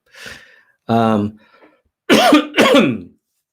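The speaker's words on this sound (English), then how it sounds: "I'm coughing, but I'm sure it's just just a regular cold." Several harsh coughs: a short one, a longer rasping cough, then two loud rough coughs close together, heard close up with no talking.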